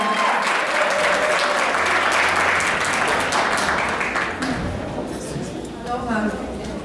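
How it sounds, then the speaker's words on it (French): An audience at a Miss Africa Switzerland pageant applauds, a broad, steady wash of clapping that fades over several seconds as a voice begins speaking over it. "On applaudit pour Andrea."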